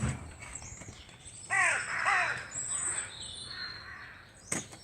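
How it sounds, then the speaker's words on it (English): Crows caw outdoors near a fishing spot, a few harsh repeated calls at moderate distance over faint background ambience and birdsong. "Bloody crows are noisy."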